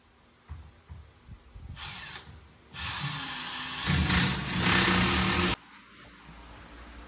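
A power drill drives 3-inch screws into a cabinet leg, with short bursts of whirring followed by a longer, louder run of the driver, heard close up with no talking.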